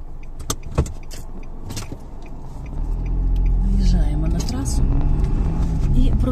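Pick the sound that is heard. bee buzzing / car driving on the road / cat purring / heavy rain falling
car driving on the road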